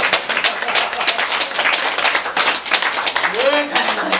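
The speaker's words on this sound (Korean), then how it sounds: "박수 쳐요." A group claps hands during a Buddhist lecture on the Vimalakirti Sutra, a dense, continuous patter of claps with voices talking over it.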